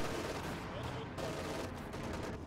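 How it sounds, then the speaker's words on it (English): ML-20 howitzer artillery fires in a World War II strategy video game, a dense rumbling barrage of overlapping booms and crackling shots filling the short stretch at steady loudness. "ML-20 firing away at this area."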